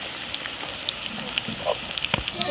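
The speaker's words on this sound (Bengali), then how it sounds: "একটা এলাচ দিছি, সাদা এলাচ, আর দারচিনি, কয়েকটা জিরা দিয়ে দিলাম তেলে।" Whole cardamom, cinnamon and cumin seeds crackle and sizzle in hot oil, a constant close frying hiss scattered with small sharp pops and spits.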